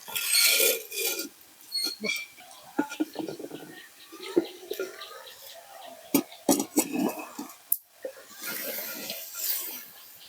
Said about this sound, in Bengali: আবার আমি কিছুক্ষণের জন্য ঢাকনাটি দিয়ে ঢেকে দেবো।